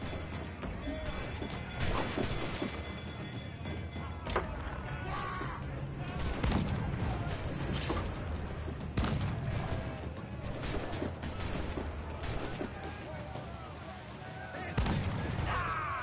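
Ship cannons fire during a naval battle in Assassin's Creed IV Black Flag, with repeated booming shots and crashing impacts scattered through a busy battle din as voices shout over it.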